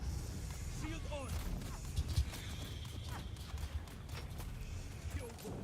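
Horse hooves clip-clop in the Dune Awakening video game, with irregular near thuds, a brief whinny-like cry and muffled voices underneath.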